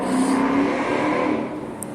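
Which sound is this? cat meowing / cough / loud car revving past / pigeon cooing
loud car revving past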